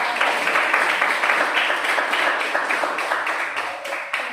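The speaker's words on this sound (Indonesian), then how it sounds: "berikan tepuk tangan untuk kelompok 1" Classroom applause for a student group after its presentation, a steady patter of many hands clapping nearby that carries on for several seconds with no talk over it.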